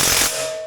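Ratchet wrench cranking bolts tight during sawmill assembly, a quick burst of close, loud clicking strokes that ends in a short ringing metallic tail.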